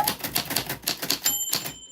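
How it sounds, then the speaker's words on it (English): A typewriter clacks with rapid, fairly quiet keystrokes, and partway through its bell gives a single bright ding before the typing resumes. "Your name fell on the typewriter bell."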